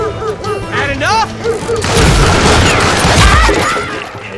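Gunshots in the Western shooter Call of Juarez Gunslinger, landing as a headshot: a dense, loud stretch of booming fire and crashing impacts that follows a quieter opening of game sounds.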